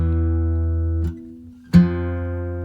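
Two sustained guitar notes, E then F, ring one after the other, the first fading before the second is plucked sharply and rings out clearly.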